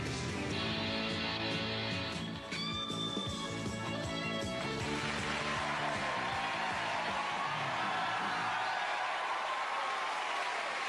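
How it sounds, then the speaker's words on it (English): An excited television studio audience at a 1993 Noel's House Party taping, where loud, broad crowd cheering and applause swell up after music and fill the rest of the stretch. "the crowd are very excited, aren't they?"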